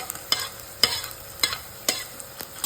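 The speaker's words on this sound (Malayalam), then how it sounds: "ഇത് മുളക് നന്നായിട്ട് വറുത്തെടുക്കണം" Green chillies, ginger and garlic fry in hot oil for an apple, cherry and date pickle, a steady sizzle broken by four sharp scraping stirs of a spoon against the pan at regular intervals, close and alone.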